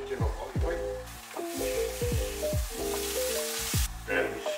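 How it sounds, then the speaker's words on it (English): Tomato roasting in a pan with olive oil and salt for a full English breakfast, a steady sizzle broken by recurring knocks and scraping stirs, with a voice speaking briefly over it. "we need to roast our tomato"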